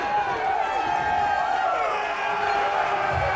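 A wrestling crowd at an NWA event in Knoxville roars and cheers wildly after a sudden upset, a dense, loud, sustained wall of voices and whoops filling the whole moment.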